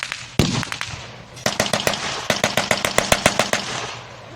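American mortars fire during a WWII battle reenactment, a loud bang followed by a rapid string of sharp, echoing reports in quick succession, some close and some farther off, with no voices.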